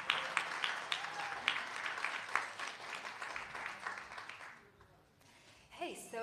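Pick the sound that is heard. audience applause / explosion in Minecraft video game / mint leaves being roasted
audience applause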